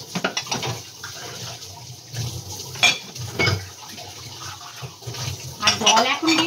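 Dishes and cutlery clink in a sink under cold tank water from a tap during evening washing-up, with scattered close clatters and a voice talking throughout.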